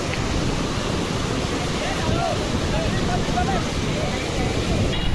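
A flooded river at Shankarha Ghat in Kawardha rushes with a loud, steady roar of churning water, with wind buffeting the microphone and a faint voice briefly audible underneath.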